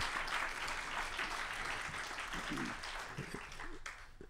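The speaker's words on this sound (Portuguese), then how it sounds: "desse ainda mais uma salva de palmas a Renato Lessa pelo tudo que ele disse" A lecture audience gives another round of applause to critic Renato Lessa, steady moderate clapping filling the room, with a few voices emerging near the end as it tapers.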